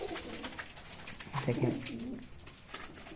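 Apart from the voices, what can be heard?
Indian Lotan pigeons cooing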